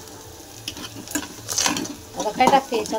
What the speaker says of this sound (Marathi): आता कांदा पण तिने मस्त तळून घेतलाय, चांगला खरपूस कांदा तळून